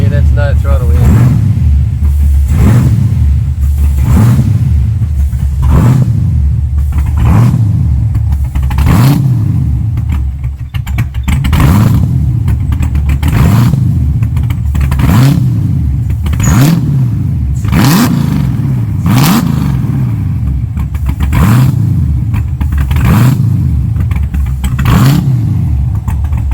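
A rebuilt Holden VT Clubsport engine idles loudly and close, then revs in repeated rising bursts, a dozen or so throttle blips over a steady rumbling idle, with people talking now and then.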